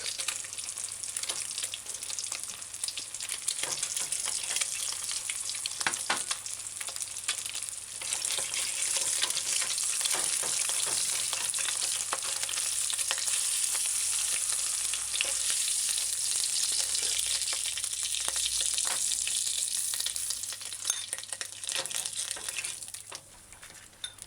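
An egg frying in a pot for a Jamaican ham and egg sandwich gives a steady, close crackling sizzle that runs the whole time, dense and even, with a few sharper pops and spatters.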